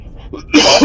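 A single sharp sneeze bursts out near the microphone at the end of a short quiet stretch, loud and abrupt, during a tabletop role-playing game session.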